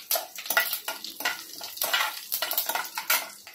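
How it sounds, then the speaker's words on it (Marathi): Curry leaves crackle and spit in hot oil beneath a partly closed lid, a dense run of sharp bursting pops and sizzles in quick uneven clusters, close and fairly loud with no voices. "इथे कढीपत्ते ते टाकते। कढीपत्ते ना तोंडावर उडतात, त्यामुळे ना असं थोडं झाकण ठेवून हे करायचं।"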